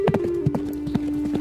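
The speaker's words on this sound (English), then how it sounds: "the horse ran away" A horse's hooves clip-clop in a quick, steady rhythm on a hard surface as the horse runs off, close and clear, with no voices.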